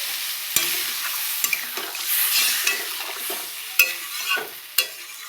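Spiced oil for a home-style rohu fish curry with potato and green banana sizzles and scrapes as half-ripe tomatoes and water go into the pan, with steady frying hiss, sharp spoon clinks and stirring strokes close by, no voices.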